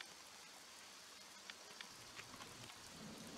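Heavy rain from the video game RollerCoaster Tycoon 3 Soaked, a steady dense hiss with faint scattered drop patter, continuous and even, with no voices.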